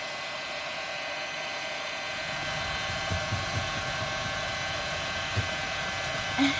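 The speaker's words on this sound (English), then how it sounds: "You just use a hairdryer." A steady, airy hair dryer blows continuously at moderate volume while used on a 1989 Toyota pickup, with a few faint scrubbing knocks underneath.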